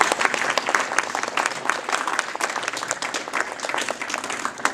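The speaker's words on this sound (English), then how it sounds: "Can we give Ken a round of applause?" A full round of clapping from the audience at a Cub Scout Pack 177 Blue and Gold ceremony, even and sustained throughout, fairly close and with no talk over it.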